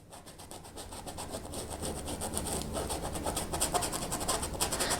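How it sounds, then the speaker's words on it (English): A paintbrush with little paint lightly scrubs across a landscape painting, making close, steady, rhythmic rubbing strokes that grow slightly louder, with no other sounds. "You can hear, I'm just very lightly scrubbing this. I don't have a lot of paint on the brush."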